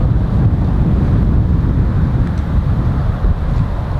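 Strong wind buffets the microphone on a golf course in a constant low rumble, gusting steadily with no other clear sounds.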